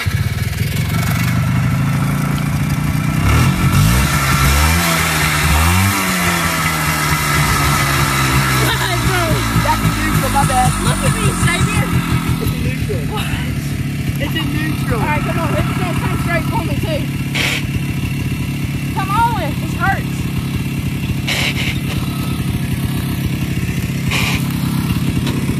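A motorbike engine throttles during outdoor mudding, revving up and down in loud, near bursts before settling into a rough, steady run while people talk over it.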